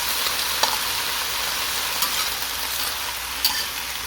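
Vegetables stir-fried in a wok with sugar, salt, stock and a little fish sauce, giving a steady broadband sizzle with a few sharp spatula clinks against the pan.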